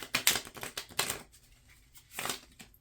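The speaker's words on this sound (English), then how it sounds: "shuffle them like a traditional deck of cards" Tarot cards riffle-shuffled like a traditional deck, several quick crisp bursts of flapping card noise followed by a pause and one more short burst, close and fairly quiet.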